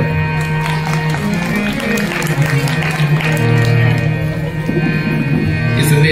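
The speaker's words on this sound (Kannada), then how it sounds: "ಎಲ್ಲರಿಗೂ ಜೋರು ಚಪ್ಪಾಳೆ" Loud, sustained applause from a large audience at a religious discourse gathering, dense and continuous throughout with a low musical drone beneath.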